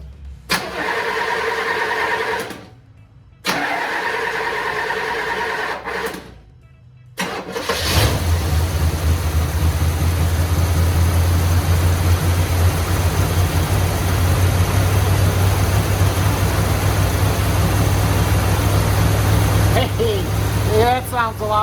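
A 1972 Chevelle engine cranks twice with short gaps between tries, then catches and settles into a steady, loud idle. Voices come in briefly near the end.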